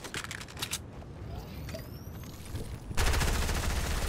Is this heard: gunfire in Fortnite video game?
yes